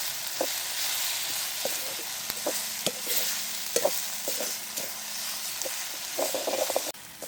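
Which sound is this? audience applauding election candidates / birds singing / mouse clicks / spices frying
spices frying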